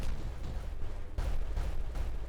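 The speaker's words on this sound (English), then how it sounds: "Let's enjoy the explosion." An explosion in the beaver colony-building game Timberborn, a sustained deep rumbling roar with a renewed burst midway, loud and dense, with no voices over it.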